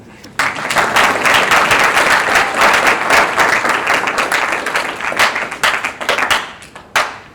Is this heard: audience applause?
yes